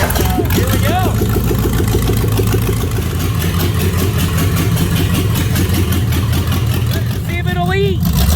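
A car engine, an El Camino during a burnout attempt, runs loud and close with a sustained rumble and brief revving swells, while people talk over it throughout.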